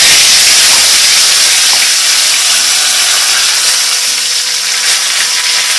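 Curry leaves hit hot oil in a pan with a pinch of turmeric while poha is being made, giving a loud, steady sizzling hiss that stays strong for the whole stretch with no talking.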